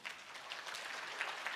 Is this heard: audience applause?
yes